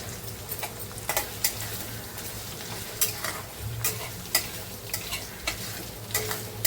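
Onion roasting in a pan sizzles steadily while a utensil stirs and scrapes against the metal in repeated sharp knocks, close and fairly loud, with no talking.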